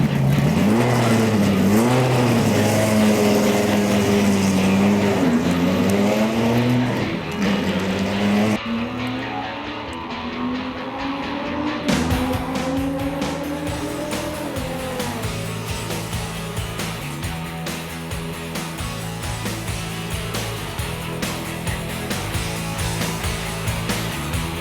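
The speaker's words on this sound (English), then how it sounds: "The 8-litre V10 engine produces a stupendous 615 horsepower" An 8-litre V10 two-seater Grand Touring coupe making 615 horsepower races around a track, its engine loud and close, rising and falling through repeated revs and gear changes, with occasional tyre squeal.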